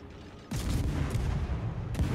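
Guns of the tier 5 Soviet cruiser Murmansk firing in World of Warships, a sudden loud salvo crashing in after a quiet moment and rumbling on, followed by a second blast near the end.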